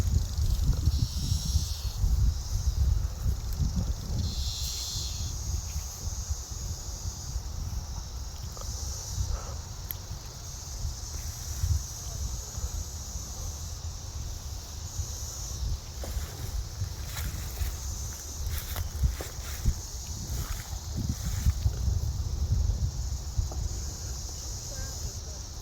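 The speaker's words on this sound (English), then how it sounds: "Sound of angry cicadas." Insects buzz and hiss continuously in a cemetery at night, a steady dense drone with a few louder surges, heard at moderate distance with faint rustling underneath.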